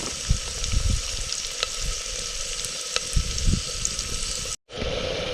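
Tomatoes sauté in hot oil with a steady, loud sizzle and occasional stirring scrapes, close up and continuous, followed by a brief dropout near the end.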